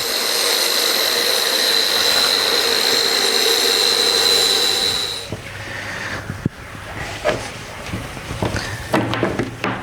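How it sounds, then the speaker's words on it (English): An angle grinder trims a plastic concrete countertop form for an outdoor kitchen, giving a loud steady whine for about five seconds before it cuts off, followed by quieter scattered clatter and handling noises. "So we'll just kiss this with the grinder"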